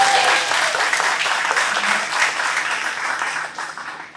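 A congregation at a Sunday worship service claps and cheers, a dense, loud wash of applause with a few voices in it that fades slightly toward the end.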